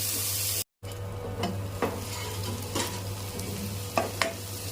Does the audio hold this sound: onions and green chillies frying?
yes